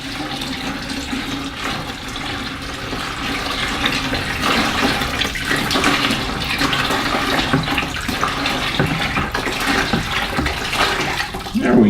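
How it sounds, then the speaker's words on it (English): Water poured into a container of soil mix for an indoor spare-bedroom garden, a steady rushing pour with swirling stirring throughout, fairly loud and close, with no talking. "when you pour your water in"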